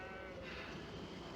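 A sheep being unloaded in a Wild West movie scene lets out a brief, wavering bleat over a dense rumbling background.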